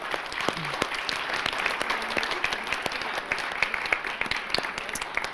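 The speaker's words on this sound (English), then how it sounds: "Please join me in giving a round of applause for our speakers tonight." Applause for the speakers after an evening panel discussion on poverty, with jobs and livable incomes as the theme: a crowd claps steadily throughout, individual sharp claps standing out over a sustained bed of clapping.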